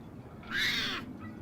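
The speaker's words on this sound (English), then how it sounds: "Pet the cat now. It's probably going to scratch us, right?" A cat in the video game Old Skies gives a single short meow-like cry, moderately loud and alone over quiet background.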